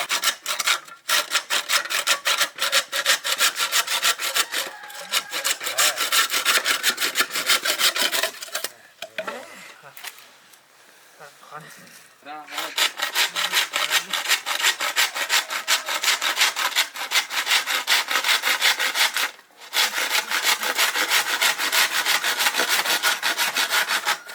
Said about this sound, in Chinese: 那个锯子